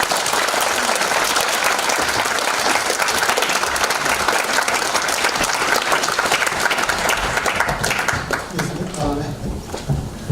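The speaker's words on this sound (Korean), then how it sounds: "박수 주세요." An audience at a natural history museum seminar talk bursts into loud, dense applause that holds strongly for several seconds, then thins into scattered claps as a speaker's voice begins near the end.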